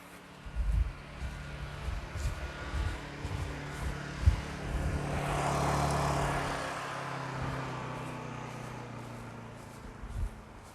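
A Honda EU2000i inverter generator runs in eco mode with a quiet, steady low hum. A few soft thumps and knocks come and go around it.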